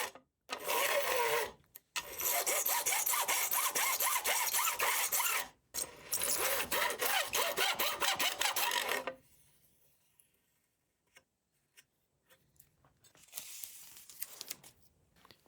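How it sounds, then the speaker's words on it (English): Rasping, abrasive strokes of a file beveling the ends of guitar frets, loud and close in long sustained bursts with short pauses, then quieter scattered scraping toward the end. "Nip the ends of some egregiously long ones and file a bevel."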